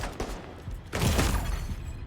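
A burst of gunfire in The Division 2 bursts out about halfway through, a dense, fairly loud volley over a low, rumbling game backdrop.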